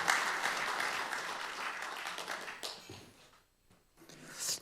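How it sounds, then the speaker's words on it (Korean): An audience at an academic conference launching a memorial society for independence activist Gye Yeon-su applauds to welcome a speaker, the clapping loud at first then thinning and fading to near silence before a brief rustle. "큰 박수로 맞이해 주시기 바랍니다"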